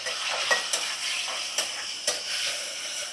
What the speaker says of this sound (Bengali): ভালো করে ভাজা করে নিচ্ছি